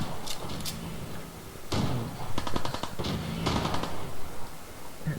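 Gunfire in the Fallout 4 video game, with several bursts of rapid shots and heavy thuds over a dense layer of game noise, loud and close.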